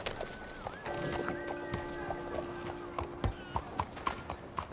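Horse hooves clip-clopping in Red Dead Redemption 2 over a steady game ambience with sustained musical tones, the hoofbeats becoming a distinct rhythmic series of thumps in the latter half.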